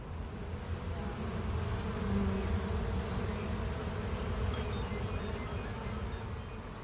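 Honeybees buzz around their hive in autumn, a steady, dense drone of many insects that holds close and continuous with no talk.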